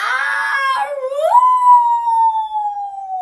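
A human voice imitates a coyote howling, a single long wavering howl that slides up and then holds a fading, sustained note, heard close and alone.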